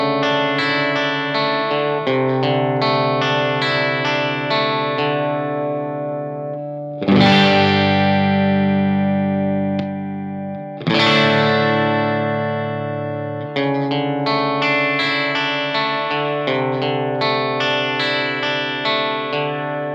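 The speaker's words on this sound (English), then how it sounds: "It has a lovely sort of sizzly high end, and it just sounds like a hot Telecaster" Distorted electric guitar, a handcrafted 2006 Nathan Sheppard NSG1 built from exotic woods, played loud and close with chord stabs, two long ringing chords midway and busy riffing either side, with effects and a bright, sizzly edge.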